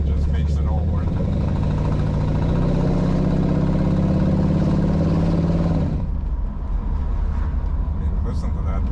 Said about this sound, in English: that V8 sound from the side pipes and the acceleration, it just makes it all worth it